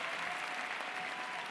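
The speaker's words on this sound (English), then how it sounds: "Let's give all of our banner carriers a round of applause." Steady, dense applause from the audience at a university convocation ceremony, a brief even wash of clapping heard from a distance.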